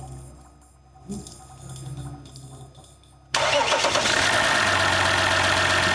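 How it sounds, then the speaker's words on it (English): A 2019 RAM 1500 EcoDiesel engine cranks and fires on its first start after an engine replacement. Quiet mechanical ticking and a fuel pump come first, then the engine catches abruptly into a loud, steady diesel idle that carries on to the end. "Let's see if this engine runs okay."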